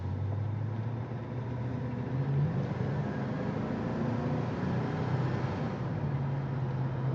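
Engine drone from a 1971 Pontiac GTO accelerating, a steady, moderately loud rumble with the pitch shifting as the car speeds up.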